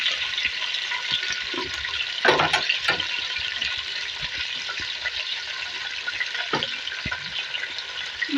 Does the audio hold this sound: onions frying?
yes